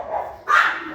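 Dogs bark in one short, fairly close sequence, a lower yelp sliding into a louder, higher bark.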